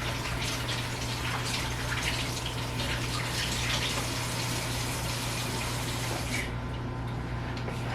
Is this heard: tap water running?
yes